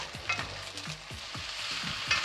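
Onion cooking in melted butter in a pan, a steady close sizzle broken by repeated scraping stirs of a spoon across the pan bottom, with low background murmur.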